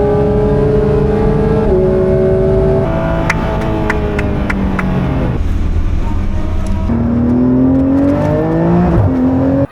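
A Porsche 992.2 GT3 RS engine revs hard through rising and falling pitches, loud and close, with sharp gear changes and shifts in tone, as on a race taxi run in Dubai.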